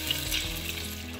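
Vinegar hits a hot pan for sweet and sour sauce, giving a steady, close sizzle and bubbling hiss that holds through the short moment without talk.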